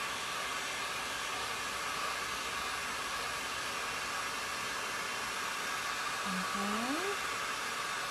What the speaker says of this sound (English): I forgot to blow this dry just a little bit over here.